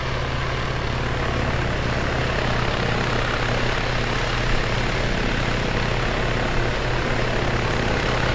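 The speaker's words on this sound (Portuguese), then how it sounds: "Olha, já aí vem o helicóptero." An Arma 3 helicopter approaching over a resort area, its rotor and engine droning loud and steady throughout, with no talk.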